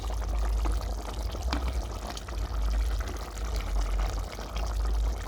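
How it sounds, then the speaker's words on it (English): Water pours steadily into a cooking pot holding smoked fish, a continuous close splashing rush over a low rumble that runs the whole time without talk. "I've added a lot of water so that our fish can cook."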